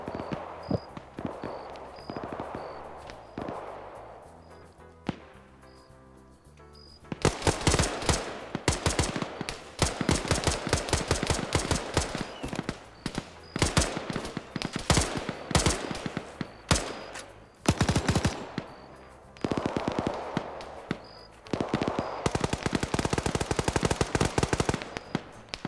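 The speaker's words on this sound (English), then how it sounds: "This is now Scandy firing at the remnants of Charlie here." Gunfire in a tactical shooter video game match: sparse single shots at first, then dense bursts of rapid automatic fire with short pauses, loud and close, without voices.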